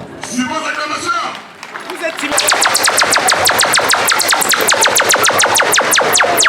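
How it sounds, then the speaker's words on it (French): An audience at a school awards ceremony at Menoua Espoir Collège breaks into loud, dense, rhythmic applause that continues to the end, after someone speaks over a microphone. "Sur vos acclamations, s'il vous plaît."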